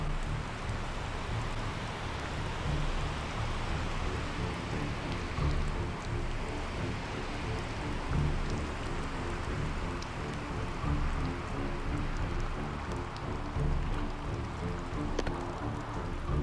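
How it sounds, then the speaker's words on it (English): Steady heavy rain from a storm at sea in a sailing simulator game, a dense, constant hiss and patter of rainfall with low rumbling wind or thunder underneath, continuous and fairly loud throughout with no talking. "The rain's coming from behind us."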